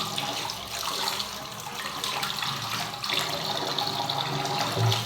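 Dirty banknotes being washed under a running tap, heard as a steady rush of water splashing into a sink, loud and continuous for the whole stretch, with no voices.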